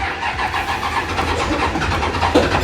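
Engine of a junkyard-built project car called Chain Smoker catching and firing up after failed attempts, a close, loud, uneven rumbling chug that settles into running with rough bursts.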